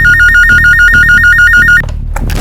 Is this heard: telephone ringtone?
yes